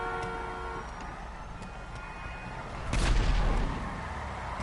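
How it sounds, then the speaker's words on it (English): Gunfire in GTA 5 during an online car meet: a short, loud burst of shots cracks out midway over a low, steady background rumble, then dies back to the ambient hum. "I hear is gunshots."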